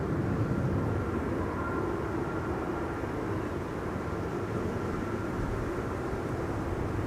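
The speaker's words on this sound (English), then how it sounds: "One of Transavia's A321 Neos" A Transavia Airbus A321neo airliner at Schiphol's Buitenveldertbaan runway makes a faint, even engine rumble heard from a distance, steady and unchanging, with no one speaking.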